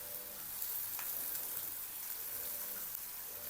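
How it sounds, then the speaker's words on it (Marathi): Potatoes and turmeric sauté in a hot pan for poha, giving a steady, close sizzle with a dense hiss and no voices. "हळद परतून घ्यायचं."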